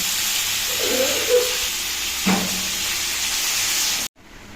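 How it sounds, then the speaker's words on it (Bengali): Water poured into a pan of fried potatoes bursts into a loud, continuous steamy hiss and sizzle that holds for about four seconds, then cuts off abruptly. "আলুগুলো এখন ভালোভাবে ভাজা হয়ে গেছে, তো এখন আমি দিয়ে দেব জল।"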